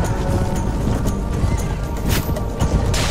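Horses galloping across a battlefield in the video game Mount & Blade: Warband, a dense rumble of hooves amid constant battle noise, loud and continuous throughout.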